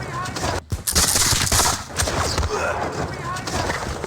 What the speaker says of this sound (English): we're going to give them a volley fire